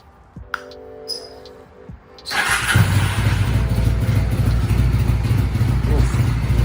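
A 2000 Honda Shadow 600 VLX motorcycle engine cranks briefly after a few clicks and handling noises, then catches and settles into a loud, steady idle rumble close to the microphone.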